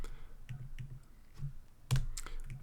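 Soft typing on a computer keyboard, a handful of quiet scattered key clicks with one sharper tap partway through, faint and close.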